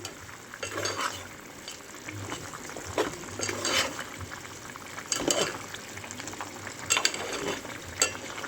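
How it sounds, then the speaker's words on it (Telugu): Chicken curry bubbling and sizzling in a pot, a wet simmering crackle with a few louder bursts of bubbling, no talking. "ఇలా ఉడుకుతుందండి బాగా."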